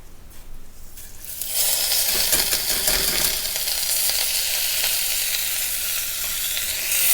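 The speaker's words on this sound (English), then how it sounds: "we saute the rice for a couple of minutes" Rice being sautéed in a pan for lemon rice hits the hot oil and bursts into a loud, steady sizzle that holds for several seconds, with faint scraping of stirring.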